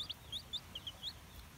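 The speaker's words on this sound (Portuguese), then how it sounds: "galo cantor." A singing-breed rooster (galo cantor) gives several short, faint, high clucks in an uneven series, heard from a moderate distance against quiet background.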